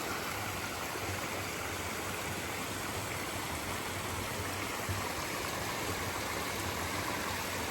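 A snowmelt stream flowing on the Pacific Crest Trail, a steady, full rushing of water that stays constant and close throughout with no pauses.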